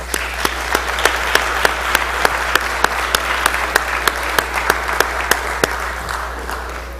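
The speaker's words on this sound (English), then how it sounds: "So let's give them a round of applause." Members in the Mississippi House chamber applaud visiting TRIO students with a steady round of clapping. Sharp regular claps sit over a constant low hum and hold evenly before easing off.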